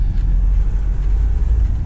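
A BMW X3 M40i with four-wheel drive makes a steady low engine drone and road rumble from inside the cabin while driving, a dense continuous hum with no talking.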